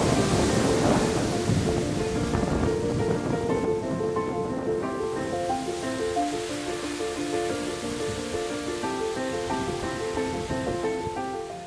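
Waterfall at Seljalandsfoss in Iceland, heard as a dense, steady roar of falling water close by, unbroken and loud for the whole stretch, with no voices.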